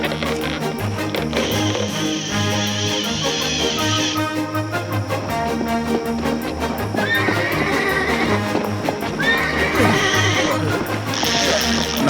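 Horses in a vintage cartoon neigh and whinny with hooves clip-clopping, loud and busy over a swelling orchestral score, with overlapping bleating cries and a steady trotting rhythm.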